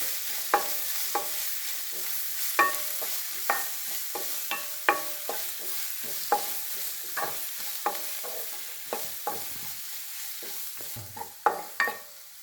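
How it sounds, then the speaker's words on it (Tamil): Cumin powder sizzles in oil in a soya chunk and potato masala while a spoon stirs the pan in repeated, sharp scraping strokes over a constant soft frying hiss, close and clear with no talking. "கொஞ்சம் ஜீரகத்தூள், இதை பச்சை வாசனை போக நல்லா வதக்கணும்"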